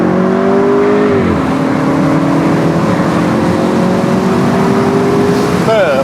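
A Mercedes-Benz SLK200 with a 1.8-litre engine accelerates hard in sport mode, its engine note climbing steadily and loudly through the gears, one brief shift dip early on, and a faint voice under the engine.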